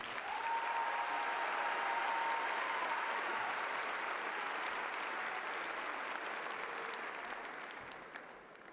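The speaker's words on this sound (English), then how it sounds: "Please give the honor graduates another round of applause." Sustained applause from a large crowd honoring honor graduates at a high school graduation ceremony in Tuscaloosa County, steady and dense throughout before tapering slightly near the end.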